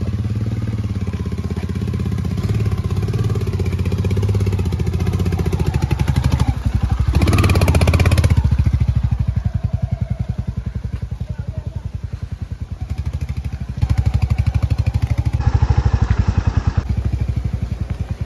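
A Royal Enfield Hunter 350 motorcycle rides an offroad trail in Himachal, its single-cylinder engine thumping steadily up close, with clattering and a brief surge of louder wind or engine noise midway.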